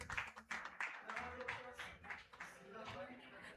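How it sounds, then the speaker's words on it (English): Applause from an audience at a hospital competition award ceremony, a continuous patter of many hands clapping at moderate volume, with speech mixed in. "Please give them a round of applause."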